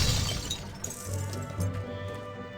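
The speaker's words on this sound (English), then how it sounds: "That was truly smashing, Harry." Objects shattering and crashing after a spell is cast in the Harry Potter Chamber of Secrets PS2 game, with glassy breaking at the start and softer tinkling debris trailing off over low background game ambience.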